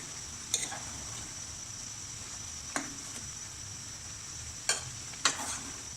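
Chopped green chillies being stirred into an aloo gobi matar sabzi in a pan, with a few sharp spoon scrapes and clinks over a steady sizzle, with no talking.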